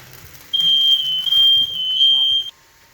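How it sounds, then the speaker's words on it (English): A single loud, high-pitched smoke alarm tone sounds in a kitchen during cooking, continuous for about two seconds, shrill and close, then stops abruptly. "smoke alarm went off"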